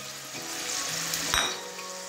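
Spice masala with tomatoes frying in a pan for a home-style loki aloo (bottle gourd and potato) curry gives off a steady close sizzle, with a brief utensil scrape or clink near the middle.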